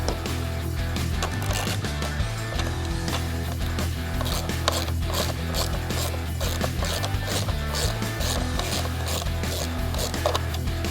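Factory bolts come out of a Jeep Wrangler JL lower dash under a hand ratchet, a continuous close clicking and rubbing of the pawl with no voices.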